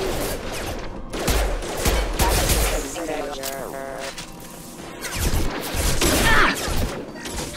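Rapid bursts of gunfire crackle through a firefight in the video game Mass Effect 2, loud and uneven, mixed with game effects while a voice talks over part of it.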